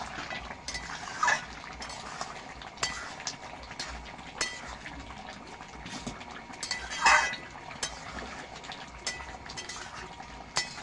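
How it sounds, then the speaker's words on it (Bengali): Mutton curry with spices stirred in a pan, with soft clinks of a utensil against metal over a low simmering bubble, faint and close, with no talking. "নাড়াচাড়া করে নেব।"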